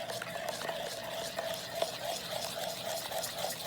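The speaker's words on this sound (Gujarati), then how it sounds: "થોડી હિંગ નાખી દેવાની અને આપણે એને પાછું હલાવી નાખશું" Khandvi batter with hing being stirred in a pot, quiet repeated scraping and swishing strokes at an even rhythm, faint and close.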